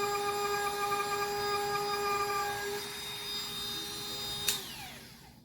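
A small high-pitched 8V cordless rotary tool, run at its second-lowest speed, whines steadily at close range, then winds down after a brief sharp click near the end.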